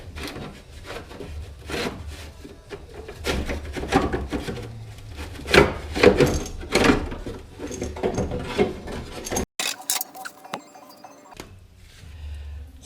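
Heat shield being worked loose from an Acura NSX during a twin turbo install: close, irregular scraping, rubbing and clunking of metal parts and tools, ending in a few sharp rattles, with no talking.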